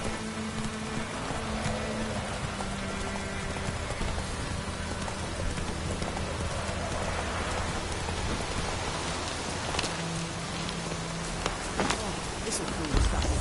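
Steady rainfall in The Witcher 3: Wild Hunt, a continuous hiss of drops on the ground, moderately loud and unbroken throughout, with faint distant rumbles and occasional game sounds mixed in.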